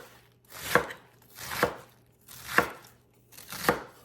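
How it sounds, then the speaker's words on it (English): A knife shreds cabbage on a cutting board in four evenly spaced, crisp slicing strokes, each a short swelling crunch ending in a thud, close and clear with no talking. "And continue to shred."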